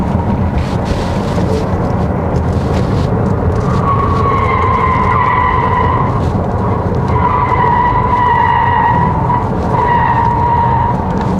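A Tesla Model S Plaid electric car, 1,020 horsepower, in comfort mode, roars loudly and steadily while tires squeal in long, repeated screeches through a corner, close and sustained.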